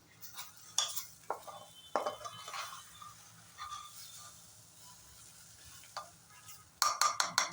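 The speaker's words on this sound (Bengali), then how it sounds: "ডালটাও এইভাবে ভালো মতো ফ্রাই করে নেবে।" Dal frying with spices in a pan, heard as soft intermittent scrapes and clinks of a spoon stirring against the vessel over a faint sizzle, with a quick burst of stirring near the end.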